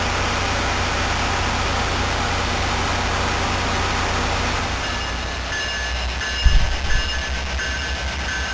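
A train rumbles steadily nearby at Fullerton station, a constant broadband roar, with a couple of low thumps and clanks near the end as it departs.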